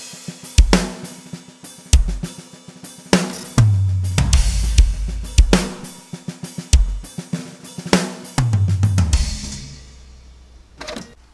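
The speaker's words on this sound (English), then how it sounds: "So you're basically going to turn a snare that sounds like this." Unprocessed snare drum hits from a mixing session, dry and raw: sharp repeated strikes in an uneven groove with some low thumps alongside, moderately loud with no talking over them.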